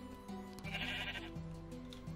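Minecraft sheep bleat in a video game, a few wavering, nasal bleats rising over a steady droning game background with no talking.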